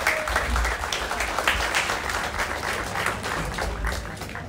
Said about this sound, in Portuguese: Uma salva de palmas para o Diogo!